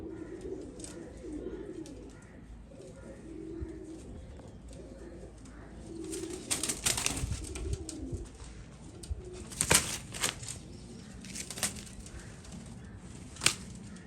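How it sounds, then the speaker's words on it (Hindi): Pigeons coo softly in low repeated phrases on a rooftop, with bursts of wing flapping and fluttering breaking in several times, close by. "ये दरमियान वाला नर है मेरे छत का चैंपियन कबूतर।"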